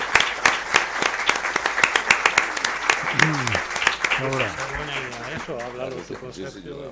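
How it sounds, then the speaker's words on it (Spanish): An audience applauds after a lecture on the surveillance and defense system of al-Andalus, a dense, steady patter of many hands with a voice talking over the second half. "un gran aplauso para Sergio."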